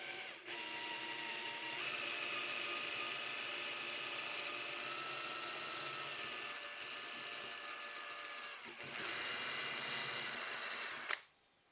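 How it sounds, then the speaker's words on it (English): A wolfcraft dowel master 4645000 jig guiding a drill into a wooden workpiece for a dowel hole, heard as a steady whining motor drone that rises in pitch near the end before cutting off abruptly, close and alone. "so I've now drilled the hole in the middle of the workpiece"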